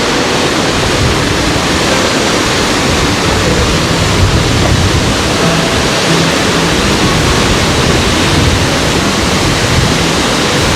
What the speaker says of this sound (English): did we mention the waterfall on the way in?